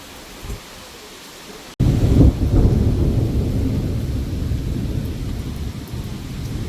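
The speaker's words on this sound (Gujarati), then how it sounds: "વરસાદ પડે છે જોરદાર. કપડાં સુકાય એવું લાગતું નથી. વીજળી પણ થાય છે." A loud crack of thunder breaks in, followed by heavy rain that pours steadily on surfaces and continues with a low rumbling roar to the end, with no voices.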